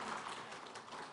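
Applause from the audience at a science and technology forum launch ceremony, a dense, steady wash of clapping that stays even and fairly soft for a brief moment.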